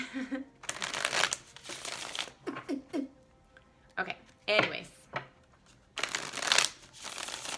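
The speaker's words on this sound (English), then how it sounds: "I got one more shuffle for Scorpio for December 22." Tarot cards shuffled by hand in repeated short riffling bursts, close and crisp, with a person speaking briefly between the shuffles.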